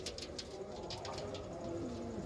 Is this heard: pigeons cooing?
yes